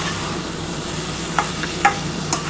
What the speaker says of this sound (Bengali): এবার সোয়াবিন, পেঁপে, আলু সব একসাথে ভালোভাবে কষাতে হবে।